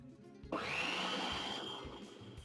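A kitchen food processor whirs into action as it mixes gluten-free tiger nut cracker dough with salt. After a brief quiet start it spins up to a loud, steady motor whine that holds to the end, with no talk.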